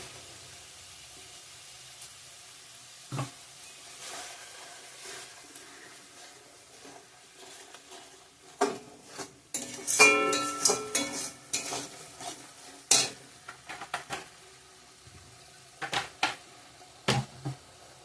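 Rui fish curry cooks in a pan with chopped tomato and mustard paste, giving intermittent sizzling bursts and stirring scrapes of a utensil, growing busier midway, with quiet gaps between.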